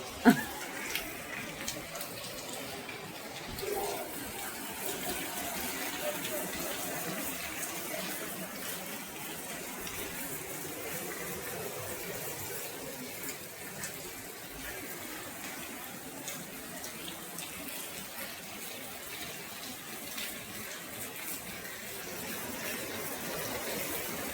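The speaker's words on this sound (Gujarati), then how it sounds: "અહીંયા ધોધમાર વરસાદ શરૂ થઈ ગયો છે" Steady heavy rain pouring down, a dense broadband wash of water noise that continues throughout at moderate level with no pauses.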